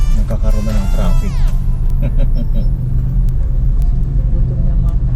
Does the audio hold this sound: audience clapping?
no